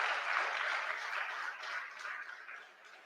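A crowd applauds an honoree at a PNM post-budget public meeting, steady dense clapping that fades slightly toward the end.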